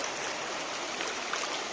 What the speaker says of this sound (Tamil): பாருங்க தண்ணி எப்படி போகுது, சவுண்டு கேட்குதுங்களா?